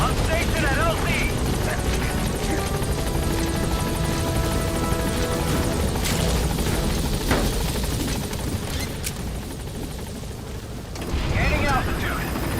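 A helicopter in Metal Gear Solid V arrives at a landing zone, its rotor roar loud and continuous with a rumbling texture, and a radio voice speaks over it.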